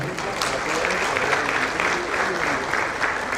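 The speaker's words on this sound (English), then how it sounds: "Please, can we clap for them?" A conference audience at the Dietitians Association of Nigeria national conference applauds for student presenters: steady, dense clapping that fills the hall at close range, with crowd voices mixed in.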